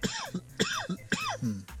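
A man coughs after his first smoke of the day, three harsh, throaty bursts spaced evenly with short gasps of breath between them, close up.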